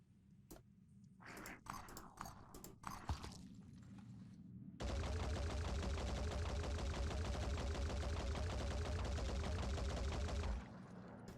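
Rage Burst gunfire in the tactical video game Phoenix Point: a few scattered clicks and shots, then a long, sustained, dense automatic volley of rapid, loud, closely spaced rounds for about six seconds before cutting off.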